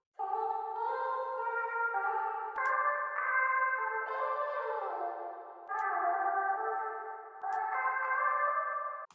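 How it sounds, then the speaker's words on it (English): Pitched-up vocal chops made in FL Studio, drenched in reverb, play a short melodic phrase of stacked sustained notes. A few sharp clicks punctuate it, and the whole line sits fairly quiet and alone with no talking. "Our new vocal chops sound something like this."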